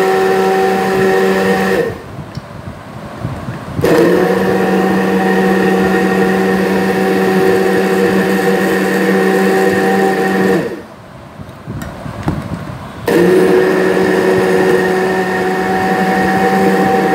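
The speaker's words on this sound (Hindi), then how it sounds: "इसको हमने ब्लेंडर में अच्छी तरह से ब्लेंड कर देना है जैसे हम लोग शेक बनाते हैं।" An electric kitchen blender whirs loudly while blending a mango shake, running in long steady bursts that stop briefly twice before starting again, with no talking.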